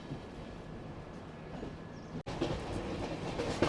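A train rolls through dense jungle near the Dudhsagar waterfalls in Goa, with engines at both front and rear. A steady rumble and wagon clatter carry on throughout and grow louder after a brief dropout.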